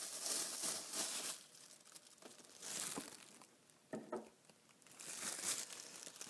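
A thin plastic bag crinkles and rustles in bursts while a red dot sight is taken out of its packaging, the crackling loud and close with brief pauses.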